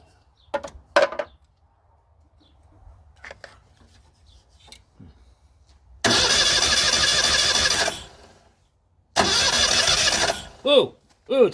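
Honda N600 sedan engine, sitting outdoors for 16 years, cranking after scattered clicks and handling noises, with two loud bursts of churning starter and sputtering, then short revving rises at the end.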